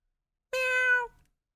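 A cat gives a single clear, close meow, one drawn-out call in an otherwise quiet room.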